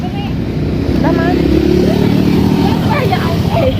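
A motorcycle engine drones close by on a street, a low steady rumble that builds and holds as it passes, with people talking over it.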